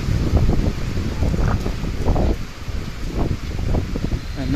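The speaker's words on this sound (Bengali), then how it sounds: "বাতাস হচ্ছে প্রচুর পরিমাণ ঢাকাতে" Strong cyclone wind gusting around Sadarghat in Dhaka during Cyclone Remal, a loud, continuous rushing roar buffeting the microphone in rough surges, with no voices.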